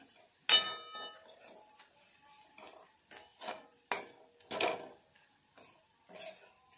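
A utensil scrapes and knocks against a pan as masala paste fries in oil over a low flame, several separate clinks and stirring strokes at irregular intervals, close and fairly quiet, with no talk.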